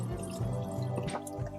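An RV kitchen sink with an electric pump runs water in a steady close stream, with a low continuous pump hum underneath for the whole short stretch.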